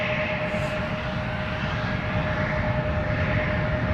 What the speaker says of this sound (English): First up, Delta Airlines flight 135 to Detroit, A330-300.